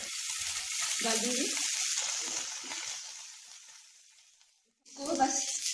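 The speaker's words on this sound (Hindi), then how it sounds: "हमें सिर्फ लहसुन और अदरक को थोड़ा फ्राई करना है" Steady sizzling of garlic and ginger frying in hot oil, close up, as someone speaks briefly over it; after a short pause the sizzle resumes.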